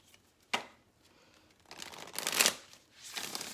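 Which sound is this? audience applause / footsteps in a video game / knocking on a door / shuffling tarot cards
shuffling tarot cards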